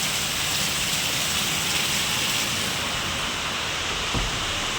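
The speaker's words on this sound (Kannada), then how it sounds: "ಮಳೆ ಬೇರೆ ಜೋರಾಗಿ ಬರ್ತಿದೆ, ಎಷ್ಟು ಬರ್ತಿದೆ ಅಂತ ತೋರಿಸ್ತೀನಿ" Heavy rain pours down steadily in a dense, constant hiss, loud and close, with one brief thud near the end and no voices.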